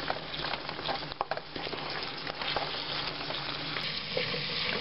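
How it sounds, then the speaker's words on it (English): Hot vegetables for ramen crackle and sizzle steadily in a pan while being stirred, with occasional scrapes and clatters cutting through the constant close frying hiss. "stirring it up, stirring it up"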